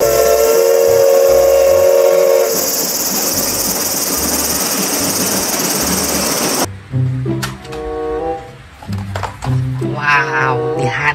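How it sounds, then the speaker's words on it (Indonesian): A loud, sustained toy Thomas steam-train whistle blows for several seconds, then cuts off, followed by mechanical clattering and whirring with faint voices. "Kereta Thomas."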